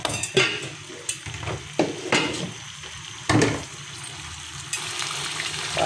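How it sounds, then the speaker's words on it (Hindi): Mutton gravy stirred continuously in a pot over high heat, with spoon scrapes and knocks against the pot at irregular intervals over a steady sizzle and bubbling, close and moderately loud. "पहले मैं अभी तेज़ हीट पे मैं इसको मुसलसल चलाऊँगी ताकि ये हर तरफ से यकसा गर्म हो जाए।"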